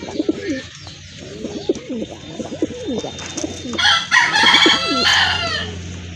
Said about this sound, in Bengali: খুবই সুন্দর এক জোড়া কবুতর